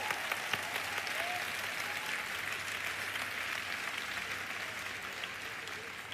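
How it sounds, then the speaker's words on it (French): A sermon audience claps together at a French-language church gathering, sustained, even applause from a large crowd heard from a distance, with no break from start to finish. "Come on, give yourself a big hand."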